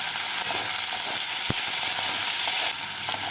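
Chopped onions frying in oil with dried red chillies and five-spice seeds, stirred as they turn light red; a loud, close, steady sizzle with a sharp scrape of the spoon partway through.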